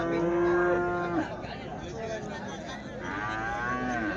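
Calves moo loudly and close by at a Sunday cattle market: one long, low drawn-out call, then a rising second bleat-like moo after a short pause.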